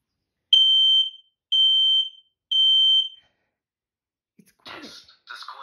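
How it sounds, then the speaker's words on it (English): A smoke detector in an off-grid home runs its sensor test, giving three loud piercing beeps about a second each in even rhythm. A short voice-prompt fragment follows. "Test des Rauchsensors."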